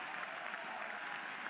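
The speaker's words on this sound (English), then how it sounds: "Round of applause from the crowd for just the stab on this defensive play" Steady crowd applause at a college softball game between Mississippi State and Oklahoma, greeting a diving defensive stab by an infielder; dense, even clapping fills the whole moment without a break.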